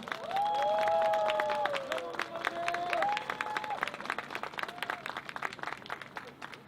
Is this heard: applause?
yes